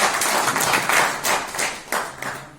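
Loud applause from a seminar audience in a hotel hall, dense continuous clapping close by with a few surges, no talk over it.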